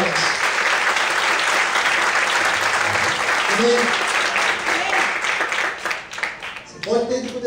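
Loud, sustained clapping from a church congregation during an evening service, thinning briefly toward the end before swelling again, while a voice calls out over the applause a few times.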